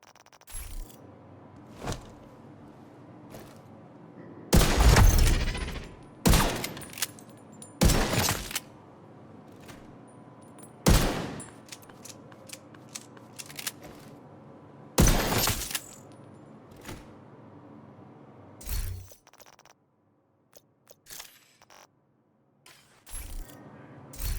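Diamondback exotic rifle fired at the gun range in The Division 2, heard as separate loud sharp reports spaced several seconds apart, with faint mechanical clicks and rattles between them.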